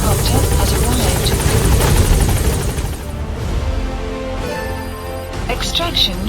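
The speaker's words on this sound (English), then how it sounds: "Support helicopter has arrived." The support helicopter in Metal Gear Solid V, a loud, close rotor drone with chopping blades that fills the scene, easing slightly midway, with game dialogue spoken over it.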